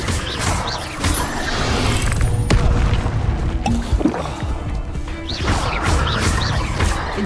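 Repeated fire-spell casts in the video game Hogwarts Legacy: loud whooshing bursts with crackling, smashing impacts, several in a row over a steady game background.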